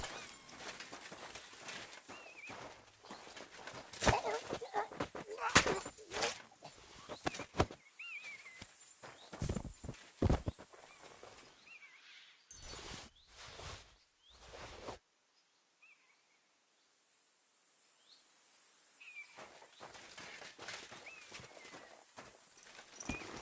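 Horse hooves clip-clop at a steady walking pace in Kingdom Come Deliverance 2, fairly close and moderately loud, with a short quiet gap midway and faint bird calls in the background.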